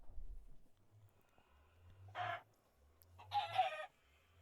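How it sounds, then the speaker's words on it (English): Minecraft chickens cluck in short bursts, two brief squawks over a faint low background hum, quiet and close with no voices. "then I go and kill some chickens."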